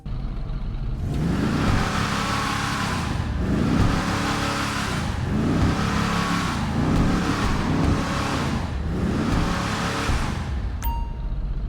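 The Dundreary Virgo Classic Custom in GTA Online revs repeatedly, five or six loud surging rises and falls of its engine in a regular rhythm, ending with a short chime.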